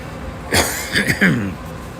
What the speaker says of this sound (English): Just gotta clear my throat a little bit.